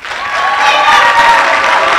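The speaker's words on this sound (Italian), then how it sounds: "un applauso a Paolo." Close, loud applause from an audience at a Dantedì lecture, a brief, dense burst of clapping holding steady for about two seconds.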